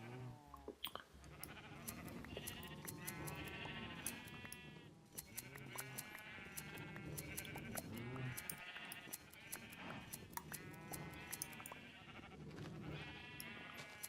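Minecraft sheep bleat over and over in quick overlapping calls, a whole flock crying out in a steady run at low overall volume, with no talking.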